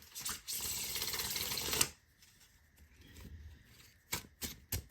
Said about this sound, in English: let's shuffle these cards and see what comes out for you